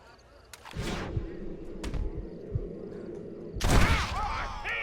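Gunfire in the Western video game Red Dead Redemption: a few sharp, loud shots with booming tails ring out over a tense game soundtrack, closing with a heavier burst near the end.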